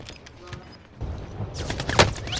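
Rapid bursts of gunfire, apparently from a shooter game, erupt after a quieter start, a dense, loud volley of overlapping shots with booming impacts, while people talk excitedly underneath.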